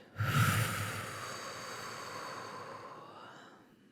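One deep breath is exhaled slowly and audibly close to the microphone during a guided breathing exercise. It starts with a strong push and fades gradually over a few seconds.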